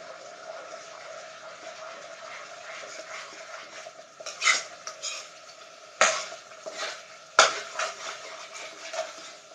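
Lemon and lime chicken madras being stirred in a pan, soft sizzling under scattered scrapes and sharp clanks of a utensil against the pan, growing louder and busier toward the end.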